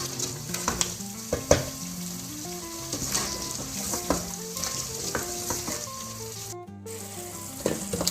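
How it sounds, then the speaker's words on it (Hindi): Chicken pieces coated in spices fry in a pan during bhunai, giving a steady close sizzle with intermittent stirring and scraping sounds and no voices. "इसे तकरीबन 10 मिनट तक आपने इसकी भुनाई कर लेनी है"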